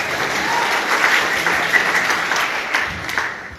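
A dense, steady wash of audience clapping fills the whole stretch at a training session, many hands applauding at once, loud and continuous with no break.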